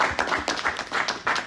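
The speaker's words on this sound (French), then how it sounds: "vous pouvez vous applaudir" A school class applauding, a brief round of claps from a small group of students, uneven and fairly close, with no talking over it.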